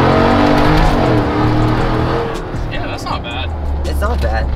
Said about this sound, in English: It sounds like a race truck.